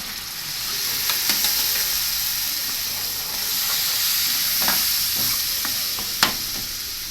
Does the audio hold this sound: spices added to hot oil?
yes